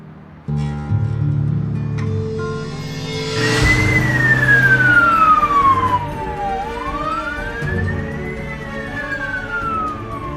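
A loud wailing siren sweeps up and down in pitch over a rumbling engine, as an emergency vehicle passes close by.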